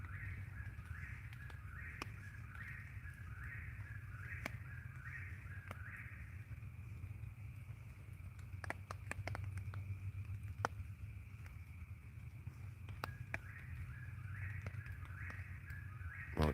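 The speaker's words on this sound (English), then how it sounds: "I'm out in the woods listening to the whippoorwills sing." A whippoorwill's repeated rhythmic song phrase in a quiet evening woods, calling over and over at a steady pace with a low hum and occasional clicks nearby.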